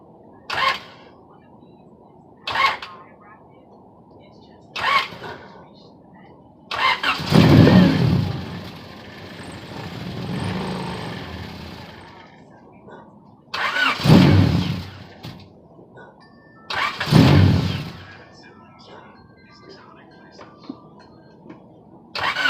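An H22-swapped Honda Civic that has sat unused cranks in several short, loud bursts, then catches and runs rough before dying, followed by more cranking attempts and brief revs, with occasional talk nearby.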